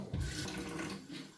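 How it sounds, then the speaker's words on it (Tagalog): Water runs and splashes from a tap while raw fish is cleaned, a close, moderate, continuous rush with small splashy bursts, fading slightly toward the end. "Laging may tubig tumutulo."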